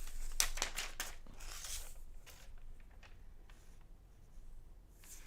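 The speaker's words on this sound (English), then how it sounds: "We'll go ahead and get the plastic off." Crinkling and tearing of plastic wrap as it is peeled off an iPad Pro 11-inch M4, with quick close rustles and crackles in the first two seconds, then quieter intermittent crinkles.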